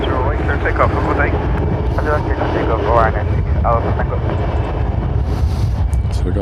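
An airliner takes off from runway 10R at Dublin Airport. The engine roar is loud and continuous, with whistling tones rising and falling in it, and voices speak over it.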